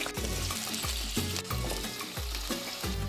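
Potatoes frying in mustard oil in a kadai over a medium-high gas flame, with a steady close sizzle and rhythmic scraping stirs at roughly half-second intervals.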